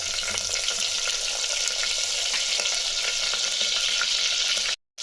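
Cumin seeds, urad dal and green chili crackle and sizzle in hot oil for a sambar tempering, a dense continuous frying hiss that cuts off abruptly near the end; no talking.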